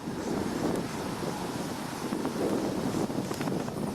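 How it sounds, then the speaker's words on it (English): Steady wind buffets the microphone with a dull, continuous rumble, and faint water or surf noise sits underneath. "Sorry about the wind."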